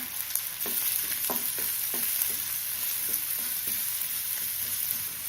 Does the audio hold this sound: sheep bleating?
no